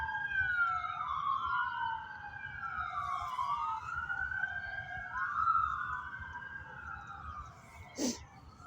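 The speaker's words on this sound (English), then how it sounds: "I'm just going to let you hear this constant ambulance and police." Ambulance and police sirens wail steadily in the distance, rising and falling in long sweeping cycles over low traffic rumble, with a brief horn-like blast near the end.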